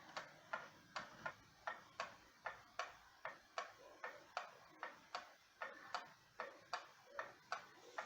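A Seth Thomas gallery wall clock from around 1910, hanging out of level, ticks with a slightly uneven beat, a long series of crisp, close ticks in a faintly lopsided rhythm.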